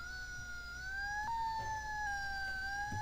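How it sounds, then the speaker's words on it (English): An ambulance siren wails steadily, a two-tone electronic sound that rises slightly, moderately distant with faint background noise. "The ambulance arrived and toted Freddie away."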